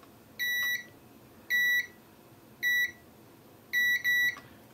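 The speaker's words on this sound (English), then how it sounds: "So meter in continuity mode again." A multimeter set to continuity mode gives four short, clean electronic beeps at uneven intervals, the last a quick double, while probing a faulty Nintendo Switch board for shorts; nobody speaks.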